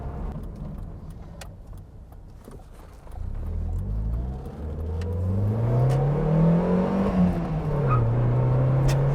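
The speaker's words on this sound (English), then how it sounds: "I hope the wind noise isn't too intrusive." A Toyota Paseo drives along with wind noise rushing past, and its engine hum rises in pitch as it accelerates, heard from inside the car at a steady, moderate loudness.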